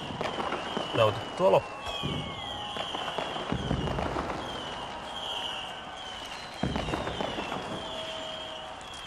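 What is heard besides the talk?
New Year 2000 fireworks in Helsinki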